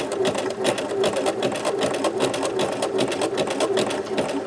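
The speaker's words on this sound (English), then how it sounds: "I'm gonna pull my elastic and I'm gonna guide my fabric through from the front and the back. Watch the placement of your zigzag." A sewing machine runs a fast zigzag stitch, attaching elastic to skirt fabric with a steady, loud, rapidly pulsing mechanical chatter that continues without a break.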